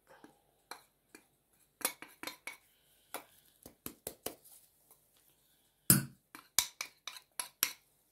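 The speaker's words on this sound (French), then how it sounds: "Je prends une cuillère. Le sucre dans une casserole qui passe au feu." A spoon knocks and scrapes against a saucepan as sugar goes in for cooking on the stove, giving scattered sharp metallic clinks and taps in irregular bursts, close and fairly quiet, with one louder clatter midway.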